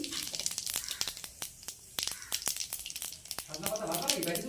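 Dried red chili, bay leaf and cumin seeds hit hot oil for tempering, giving a loud, close sizzle with a rapid series of sharp spattering crackles throughout.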